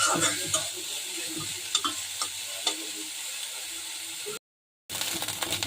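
Dried shrimp fry in a pan, a continuous close sizzle broken by brief spatula scrapes and taps, then a short moment of silence before the frying resumes.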